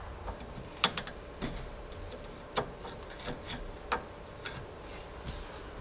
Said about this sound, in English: we're going to have to use a ratchet since we can't get a impact up here